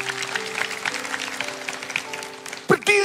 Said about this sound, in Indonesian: Kasih tepuk tangan untuk Pak Wiyatno.